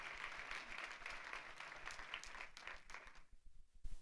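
A crowd applauds with dense, continuous clapping that thins out and fades toward the end.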